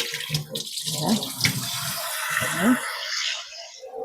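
Medium-size prawns are rinsed under running water from a tap, an uneven close splashing that surges and fades in bursts as they are handled.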